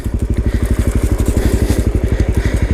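A Suzuki DRZ400SM supermoto motorcycle engine thumps close and loud on a soft dirt trail, its single-cylinder beat running in a fast, even pulse at low revs.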